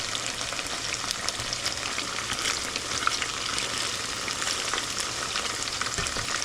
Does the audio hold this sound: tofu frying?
yes